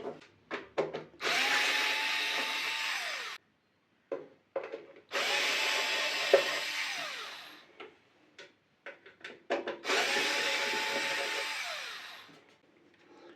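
A Black+Decker cordless screwdriver with a magnetic bit spins in reverse, backing a screw out of a vise-held piece in three sustained whirring bursts of about two to three seconds each, separated by clicks and handling taps, close and clear with no talking.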